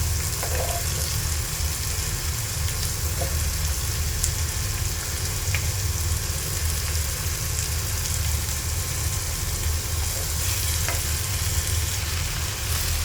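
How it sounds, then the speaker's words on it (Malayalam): Chopped okra (ladies' finger) fries in a pan for a stir-fry, giving a loud, continuous, even sizzle throughout with a few faint stirring clicks and no talking. "ഇനി അരിഞ്ഞു വെച്ചിരിക്കുന്ന വെണ്ടയ്ക്കയും കൂടി ചേർത്ത് കൊടുക്കാം"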